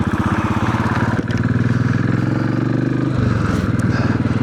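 Royal Enfield Classic 500 motorcycle engine idling with a steady, loud low thump close by, and a brief clunk partway through as the rider struggles to put it into gear.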